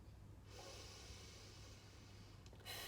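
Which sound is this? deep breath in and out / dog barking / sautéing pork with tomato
deep breath in and out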